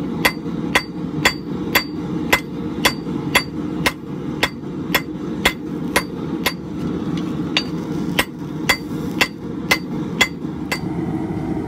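Hammer forging nail stock on an anvil in a blacksmith's shop, striking steadily at a brisk even rhythm, about two blows per second, close and loud over a low background rumble.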